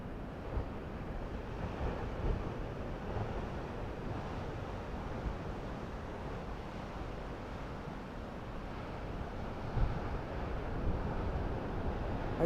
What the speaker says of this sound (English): We just missed a crashing wave against the cliffs here.